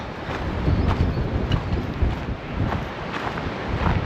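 Strong, cold wind on a winter day in Spain buffets the microphone in rough, gusting rumbles that swell and ease continuously.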